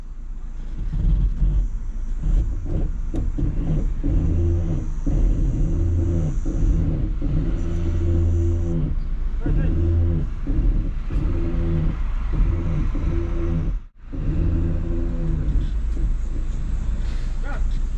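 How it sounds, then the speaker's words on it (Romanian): A BMW 3 Series with a manual gearbox drives along, its engine giving a steady low rumble with gear changes and brief revving, close and continuous throughout with a short drop near the end. "n-am mai mers cu un BMW manual de..."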